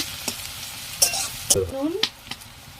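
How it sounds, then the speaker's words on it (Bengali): Onions being sautéed in a pan while cooking cabbage with snails, a soft sizzle broken by a few sharp scrapes and clinks of a spoon against the pan, with a brief voice murmuring. "পেঁয়াজটা কষানো হয়ে গেছে"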